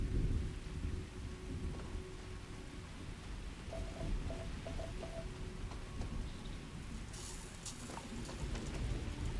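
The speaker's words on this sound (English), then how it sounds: "Got a nice bit of rain. Do like me some rain in video games." Steady rainfall with a low rolling rumble of thunder in the Starfield video game, a continuous soft hiss of rain under a deep distant boom, with faint chimes partway through.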